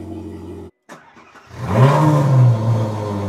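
Second Ferrari V8 sports car, a 458 Speciale or 488 Spider, cranking over and firing up, a brief starter whirr followed by a loud, near rev that swells then settles into a high idle.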